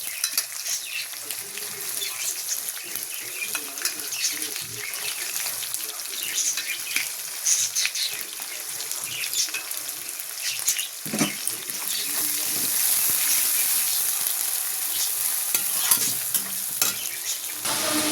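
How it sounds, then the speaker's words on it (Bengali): Onions sizzle and fry steadily in a hot pan while being stirred, as part of making a roasted eggplant bharta; a continuous crackling hiss with occasional utensil scrapes, close and fairly loud, no talking. "পেঁয়াজটা ভাজা হয়ে গেছে"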